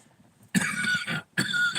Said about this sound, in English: I felt a serious cough coming on